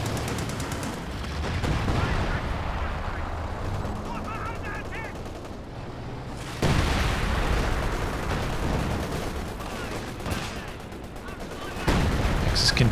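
Howitzer and Walking Stuka rocket artillery firing in Company of Heroes 2, a 2v2 battle, with repeated booming shots and bursts of gunfire over a dense, noisy battlefield and some talk.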